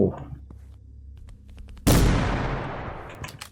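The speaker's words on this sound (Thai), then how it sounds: "ยิงผ่านครับยิงทะลุไป" A sharp, loud gunshot from The Final Station game bursts out suddenly, its blast decaying into a long rumbling tail, preceded by quiet clicks and low ambient hum.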